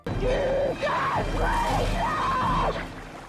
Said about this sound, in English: Well, except maybe for that death scream?